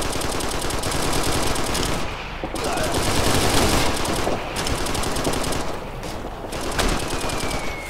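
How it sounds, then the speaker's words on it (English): Loud, sustained automatic weapon fire in the Operation Flashpoint: Red River military shooter, dense overlapping bursts and rattling volleys with brief lulls between, under a busy combat mix. "We're under fire!"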